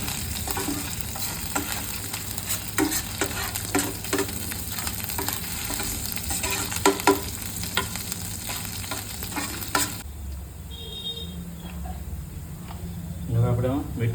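Chopped onions frying in hot oil with ginger-garlic-chili paste while being stirred for street-style aloo frankie, a continuous close sizzle with scraping stir strokes that quiets toward the end.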